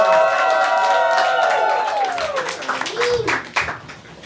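Audience clapping and cheering for a comedian taking the stage at a comedy show, loud dense applause with voices whooping over it, a rising and falling cry near the end as it tapers.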